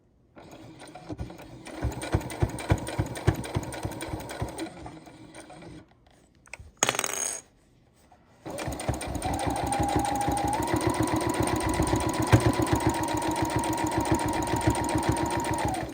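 A sewing machine stitching binding onto a quilt, fast rhythmic needle clatter that runs, pauses briefly with a short burst of another sound, then resumes steadily and loudly.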